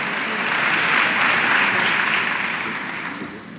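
A hall audience at a Cartagena charity event claps steadily for the Zancadas association, the dense applause peaking midway and then tapering off slightly toward the end.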